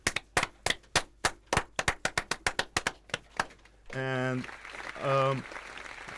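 Scattered, distinct claps from a small audience for a student team at a competition, irregular and close, followed by someone speaking briefly.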